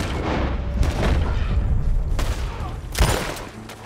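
Gunshots in the Red Dead Redemption 2 video game ring out as a few loud, booming reports with echoing tails, one sharp shot standing out near the end over a rumbling background.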